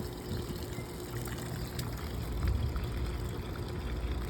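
Water pours and trickles softly and continuously onto a potted tomato plant on an apartment patio, fed through a gate, a faint steady splashing against outdoor background noise.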